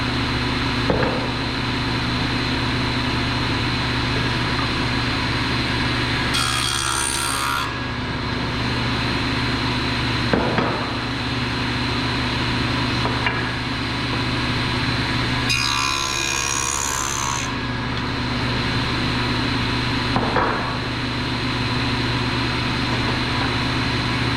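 A wooden half lap joint is cut with a power tool that drones steadily and loudly throughout, with two brief harsher bursts as the blade bites into the wood, and no speech.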